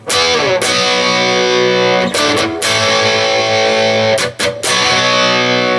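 Heavily distorted electric guitar plays loud sustained power chords, cut by several quick muted gaps, with a slide between chords, in a steady rock rhythm with no talking.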